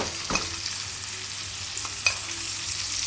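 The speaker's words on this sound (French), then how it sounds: "On l'arrose comme ça cuit bien" Salmon fillet frying gently in a pan while being basted, a steady soft sizzle with a few brief spoon clinks and stirring touches, close and moderately quiet.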